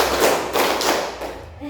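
A class ice-breaking clap game, with a group clapping in a counted rhythmic sequence, about four broad, evenly spaced claps close by, while a voice calls out the count over them.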